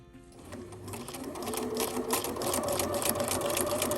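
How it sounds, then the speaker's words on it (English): A sewing machine runs forward and back across the strap of a drawstring bag, a close, steady rapid motor hum with needle chatter that builds from quiet to full speed, no talking. "So we're sewing forward all the way across that strap and back stitching all the way across the strap again."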